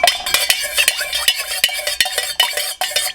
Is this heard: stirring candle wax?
yes